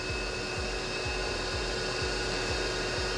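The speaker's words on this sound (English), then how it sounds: "They're turning on the vacuum." A vacuum cleaner runs steadily in a pen-making workshop, a continuous close whine and roar with a faint rhythmic pulsing underneath, no talk.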